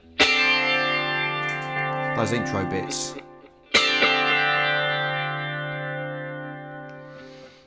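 Sustained electric guitar chords with a delay effect ring out with repeating echoes trailing behind them, a second strum cutting in midway; a voice speaks briefly at the end.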